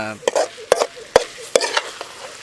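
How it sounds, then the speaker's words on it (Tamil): Grated carrot for sugar-free carrot halwa is stirred and sautéed in a pan, with four or five sharp scraping strokes over a soft, steady sizzle, close and fairly loud with no talking. "நமக்கு நல்லா வதங்கி வந்துட்டுருக்கு கேரட்டு"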